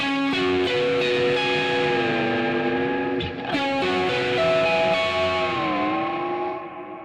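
A distorted electric guitar on the neck pickup plays a sustained, bending solo line with heavy reverb and echo, notes ringing and fading out at the end.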